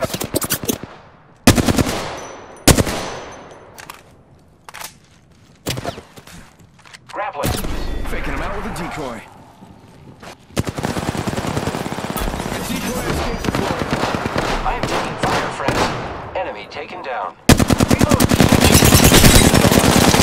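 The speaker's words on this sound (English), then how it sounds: "Shots fired and they're hitting me." Gunfire in the shooter game Apex Legends: sharp single shots and short bursts early on, then long stretches of rapid automatic fire and a loud final volley, close and dense, with voices speaking in between.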